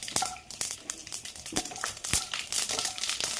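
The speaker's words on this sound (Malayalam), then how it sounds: "കടുക് പൊട്ടിയിട്ടുണ്ട് കേട്ടോ" Mustard seeds popping and crackling in hot coconut oil, a dense run of sharp close pops and spatters with no one speaking.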